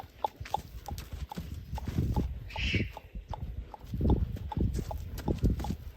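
A horse galloping and doing flying lead changes in a natural horsemanship session, its hoofbeats landing in a rolling, uneven rhythm of thuds at moderate distance, with a brief voice-like call partway through.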